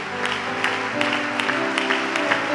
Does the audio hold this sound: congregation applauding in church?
yes